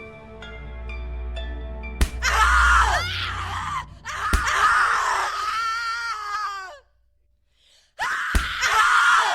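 Screaming from The Cat Lady video game: loud, anguished screams and gasping cries in long bursts, separated by a brief silent pause, set against low game music at the start.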